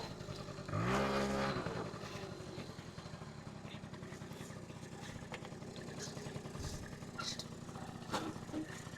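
A 1982 Honda Urban Express scooter's small engine runs with a steady buzzing drone, rising briefly near the start in a rev, then settling into a continuous putter at moderate distance.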